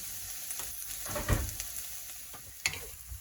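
Prawns sizzle in a hot pan for pad thai, a steady close frying hiss broken by a few louder stirring scrapes and clanks.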